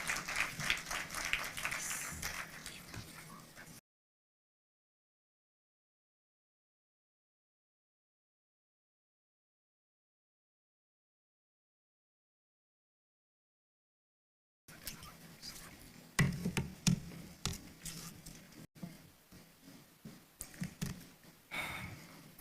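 An audience at a presentation of the State of the Judiciary annual report claps in scattered, uneven bursts, fairly faint, with a long silent gap between two stretches of clapping.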